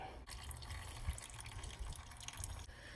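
Engine oil draining from a Polaris Sportsman ATV during an oil change, a steady close trickle of liquid with dripping, continuing evenly throughout without any talking.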